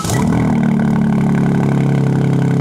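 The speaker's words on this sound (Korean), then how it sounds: "그럼 이거 또 배기 소리도 크겠네요." A deep, steady exhaust rumble from a powerful BMW M car engine, loud and close, holding an even idle throughout with no voices.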